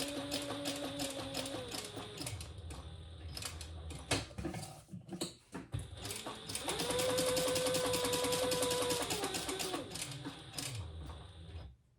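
A freshly oiled sewing machine stitches a wallet with variegated Tex 45 thread, its rapid mechanical clatter running in bursts with short pauses and a sustained stretch near the end.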